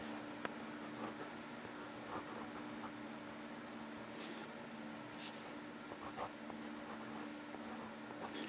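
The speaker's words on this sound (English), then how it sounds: "you can see how well this pen writes or how well it doesn't write" Zebra V301 fountain pen writing on a paper pad, a faint, steady scratching of the nib that runs continuously at low level with a few soft ticks and no talk.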